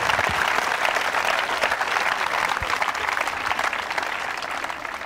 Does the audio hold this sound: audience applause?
yes